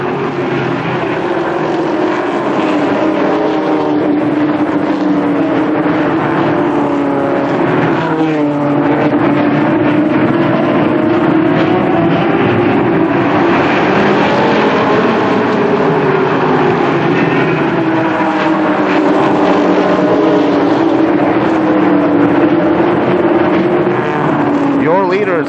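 Limited sportsman race cars roar steadily around the Columbus Motor Speedway oval at the start of a 30-lap feature, a continuous loud engine drone with rising and falling pitch sweeps as cars pass, with a voice speaking over it.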